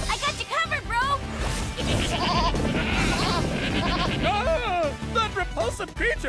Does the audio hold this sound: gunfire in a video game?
no